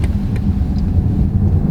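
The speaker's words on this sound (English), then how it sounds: "The V8 of BMW is just one nice engine, to be honest." A 2020 BMW M750i with its V8 engine running while driving, a loud steady low rumble with slight fluctuations, close and alone without talk.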